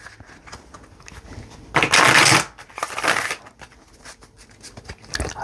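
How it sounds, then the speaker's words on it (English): Playing cards riffle-shuffled in two quick bursts, a loud fluttering whir followed by a second softer one, with light handling noises around them. "I love the sound of shuffling cards."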